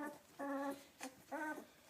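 Two-week-old British Labrador puppies whimper in two drawn-out, high whining cries with short yips between, close and fairly loud, with no talking.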